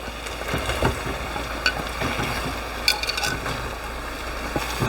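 Cauliflower sizzles and crackles steadily in hot curry masala, a continuous close frying hiss broken by scattered pops and stirring clatter, with no voices.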